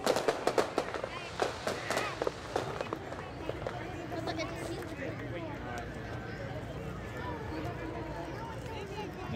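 Fireworks in a Mario animation crackle and pop in a quick burst of sharp bangs at the start, then thin into scattered crackles beneath voices speaking.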